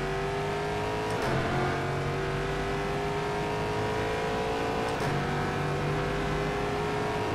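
Race car engine in the rFactor 2 sim from the Endurance Pack, a loud steady high-revving whine that climbs in pitch and drops sharply at two upshifts, with no talk.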